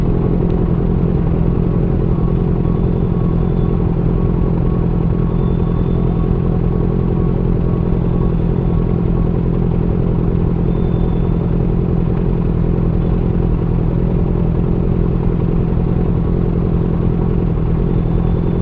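A big bike motorcycle on a ride to General Trias, Cavite, gives a constant loud engine drone with a low rumble and some rattling clatter, steady throughout with no speech.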